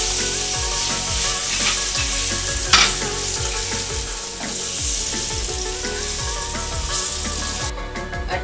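Lentil paste hits hot oil seasoned with fennel seeds and black cumin, crackling and sizzling loudly up close while being stirred, with rapid popping bursts throughout and no talking.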